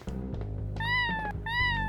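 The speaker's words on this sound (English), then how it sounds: "we're gonna pet the kitty" A cat meows twice while being petted in the video game Plumbers Don't Wear Ties: Definitive Edition, two drawn-out mews over a low game hum.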